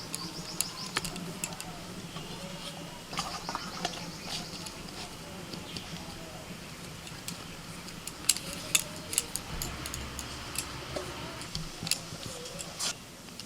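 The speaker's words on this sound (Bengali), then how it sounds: "এই দেখুন এরকম বড় বড় করে লেচি কেটে নিচ্ছি।" Naan dough is cut into large portions in a kitchen, soft repeated snipping and tapping clicks close by over a low steady background hum, with no talking.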